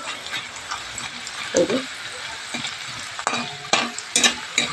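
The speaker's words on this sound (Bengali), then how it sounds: "দেখুন বন্ধুরা পাকোড়াগুলো ভাজা হয়ে গেছে" Cauliflower pakoras frying in hot oil make a bright, close sizzle broken by irregular spatters and stirring clatters, with louder bursts toward the end.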